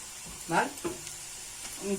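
Balls of Lent fritter dough frying in hot oil give a soft, intermittent sizzle with a few brief bubbling bursts, close and fairly quiet.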